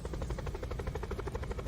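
A helicopter in a video game whirs with fast, steady rotor pulses, loud and continuous through the short stretch with no talk over it.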